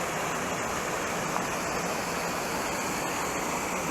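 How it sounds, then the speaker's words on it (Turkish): A small stream rushes steadily and continuously, a close, even flowing roar with no voices. "Böyle buradan küçük bir dere akıyor."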